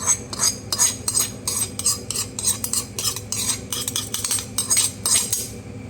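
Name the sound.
mixing unniyappam batter with a ladle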